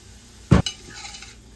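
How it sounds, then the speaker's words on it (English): Coconut masoor dahl stirred in a pot, one short close scrape of a utensil against the pot followed by a faint clink and a low simmering hiss. "I'm just going to stir this around"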